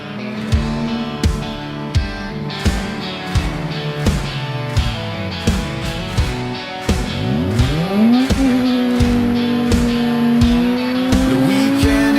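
Race car engines rev and drone on a track, with repeated sharp throttle blips and rising pitch sweeps as they accelerate, settling into a loud sustained high engine whine near the end.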